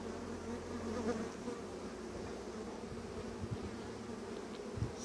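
Honeybees buzz continuously in a dense, droning swarm of tens of thousands around a hive, close and steady, with occasional brief bumps and rustles beneath the hum.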